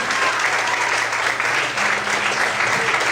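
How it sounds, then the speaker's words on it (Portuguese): Steady, full applause from a church congregation glorifying God during a sermon, a continuous wash of many hands clapping at constant loudness throughout. "Será que você pode aplaudir o Senhor e glorificar a Deus?"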